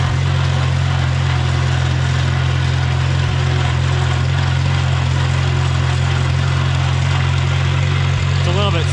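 A 1950 Farmall Cub tractor engine, a smoky machine, runs at a steady low idle with a loud, even rumble throughout, close by, someone speaking over it.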